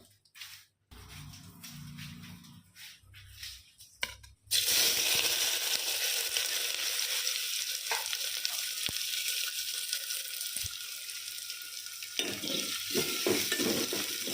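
Hot cumin tempering poured from a lead ladle into mashed thoyyal and pannai greens gives a sudden loud, close sizzle that keeps crackling steadily to the end, after quieter stirring and clinking at the start.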